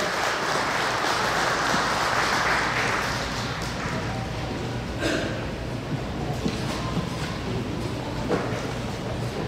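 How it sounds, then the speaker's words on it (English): An audience at a retirement celebration claps in a warm round of applause, a broad and steady wash of clapping that fades slightly partway through, with faint voices underneath. "Please give them a warm round of applause."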